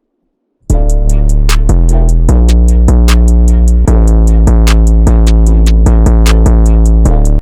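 808 bass run through a free distortion plugin, loud and heavily saturated, with repeated punchy bass notes under a sharp, steady ticking hi-hat pattern, starting abruptly after a moment of silence.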